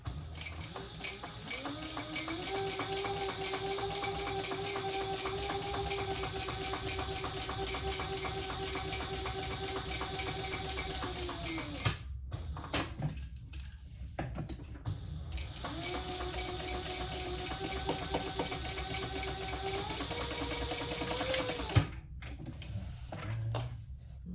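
A sewing machine top stitches a mini sling bag, running in two long steady whirring passes with a rising motor pitch, separated by a brief pause with small handling clicks, close and continuous without speech.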